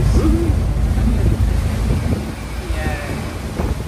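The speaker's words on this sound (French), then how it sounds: "Ça a un peu venté aujourd'hui, des bonnes vagues." Wind-driven waves wash against a boat on Lake Erie, a steady close rumble of water and wind buffeting the microphone throughout, with faint voices in the background.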